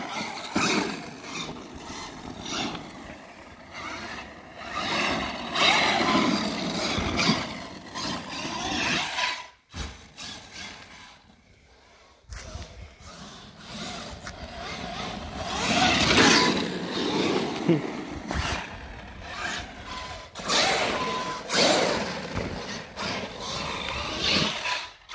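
A lightweight Traxxas X-Maxx 6x6 short-wheelbase RC truck drives nearby, its electric motor whining and drivetrain rattling in uneven surges, with a brief near-silent pause partway through and no talking.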